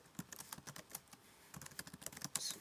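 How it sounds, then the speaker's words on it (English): Typing on a Mac computer keyboard, a quick irregular run of soft key clicks, close and quiet with no voices over it. "I'll just type in something like"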